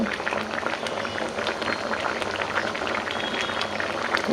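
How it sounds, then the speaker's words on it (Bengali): Large prawns frying in a pan, giving a steady, dense crackle and bubble of hot oil that carries on evenly throughout and sounds close. "চিংড়ি মাছটি ভাজ্যে নিচ্ছি"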